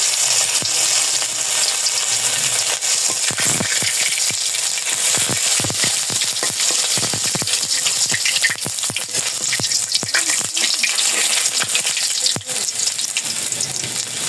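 Cumin seeds and ginger frying in a pan, giving a steady close sizzle with irregular scraping and knocking from stirring throughout. No one speaks.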